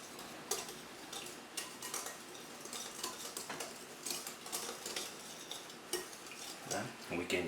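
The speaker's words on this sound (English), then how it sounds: "Just want to give them a quick whisk together." Quick whisking of dry baking ingredients, baking soda and salt with flour, in a bowl for Bananas Foster French toast: light, rapid metallic ticking and scraping strokes, fairly quiet and irregular, with no talking.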